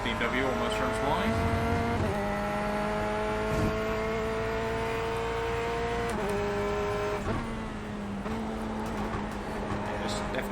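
Race cars, including a BMW, lapping Interlagos in the iRacing IMSA series, with steady engine drones that shift pitch as the cars brake and accelerate, continuous and loud throughout, with talk over the top.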